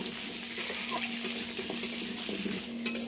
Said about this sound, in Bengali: এবার যে আলুগুলো কেটে রেখেছিলাম সেগুলো দিয়ে দেবো ভাজার জন্য। আলুগুলো খুব ভালো করে ভেজে নেব।